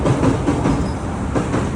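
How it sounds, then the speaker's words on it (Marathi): A train rumbles across a railway bridge overhead during heavy rain, a brief, close, continuous rolling clatter of wheels on track. "वरती रेल्वेचा ब्रिज आहे बघा, ट्रेन चालली आहे"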